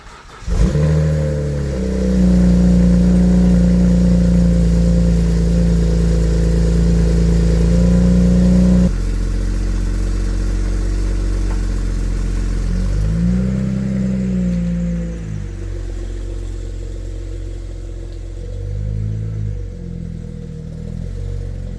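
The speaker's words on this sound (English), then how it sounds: "So let's move the car" A BMW car's engine runs steady and loud nearby as it is moved back a short distance, then drops to a quieter idle with a couple of brief revving swells.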